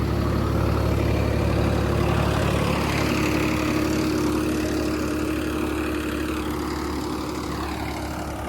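A Swaraj 969 tractor working a 9-foot rotavator gives a continuous heavy engine roar with a steady low hum and grinding texture, loud and close, fading slightly toward the end.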